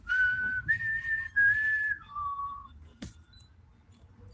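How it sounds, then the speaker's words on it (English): An old fish whistle blown outdoors gives several sustained, fairly loud high tones, a few bursts with a brief gap and a lower final note, followed by a sharp click and quiet surroundings. "You be out there and gotta pull out that old fish whistle."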